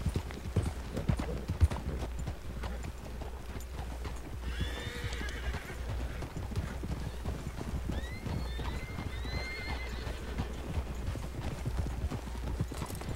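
In a video game, hooves clop rapidly and continuously as wild horses gallop in the mountains, with a couple of whinnies breaking through midway and later; no talking.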